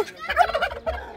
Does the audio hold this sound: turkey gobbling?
yes